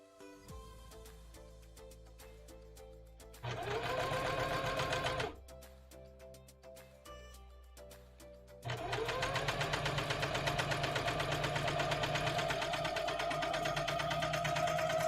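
A sewing machine stitches a linen seam up close, running in bursts of rapid mechanical clatter, stopping briefly, then starting again for a longer steady run.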